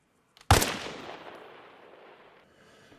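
A single sniper rifle shot in Arma Reforger fires with regular ammunition at a 500-meter target: a sharp, loud crack with a long rolling echo that fades over a few seconds.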